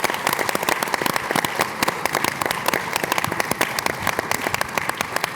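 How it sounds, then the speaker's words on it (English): Audience applause from a live podcast season finale crowd fills the space, dense, continuous clapping heard up close and loud throughout. "And do give a round of applause for Alyssa, who helped with all the logistics"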